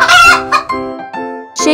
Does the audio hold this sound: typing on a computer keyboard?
no